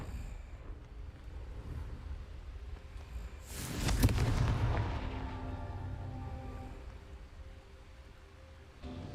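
A Confringo spell explosion in the game Hogwarts Legacy erupts as a single loud boom with a rumbling tail that fades slowly over steady background noise.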